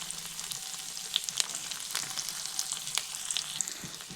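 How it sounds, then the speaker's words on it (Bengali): Chopped onion frying in hot mustard oil with whole cumin in a wok, a continuous close crackling sizzle dotted with small pops and occasional stirring scrapes, with no talking. "প্রথমে পেঁয়াজটি হালকা ভেজে নেব।"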